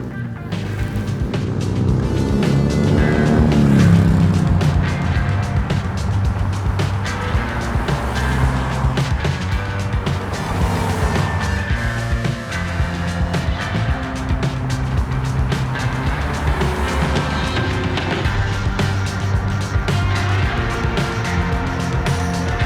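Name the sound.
Toyota Camry sedan setting off and driving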